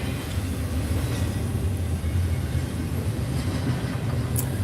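A train passing at steady volume, a broad continuous rumble with faint rail clatter, no talk over it.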